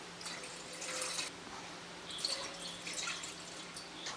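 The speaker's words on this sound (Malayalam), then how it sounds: "2 ഗ്ലാസ് വെള്ളം ഒഴിക്കുക." Water is poured into a pot for boiling a home remedy for dry cough, heard as close bursts of splashing and trickling in two main pours with faint drips between them.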